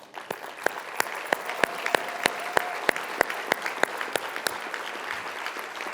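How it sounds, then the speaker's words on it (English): A modest group claps steadily, with individual sharp claps standing out clearly, sustained for several seconds without talk. "Let's give them a round of applause."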